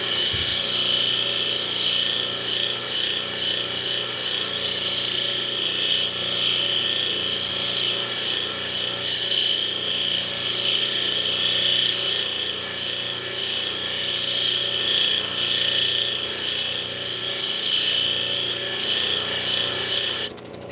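A power sander grinds scratches out of an obsidian surface with a steady, high rasping whine that runs continuously and close, without pause.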